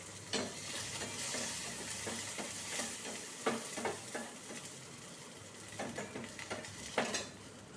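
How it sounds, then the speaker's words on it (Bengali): Curry leaves dropped into hot oil crackle and sizzle faintly and steadily, with a few sharper pops and light scraping as the pan is stirred. "এটাতে কারি পাতা দিয়ে দিলাম।"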